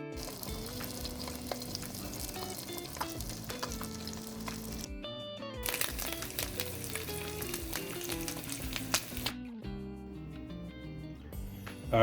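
An egg fries on a hot griddle for a breakfast burger, giving a close, steady sizzle and crackle that cuts out briefly twice before resuming, with faint clinks now and then and no voices.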